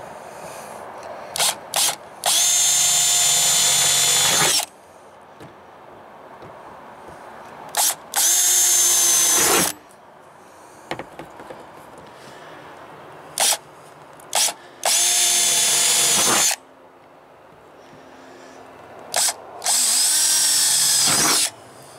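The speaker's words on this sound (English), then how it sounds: "drill some holes in the corner" A power drill drills holes through a Ram ProMaster 2500 van roof in several bursts of a few seconds each, close and loud, with quiet pauses and small clicks between them.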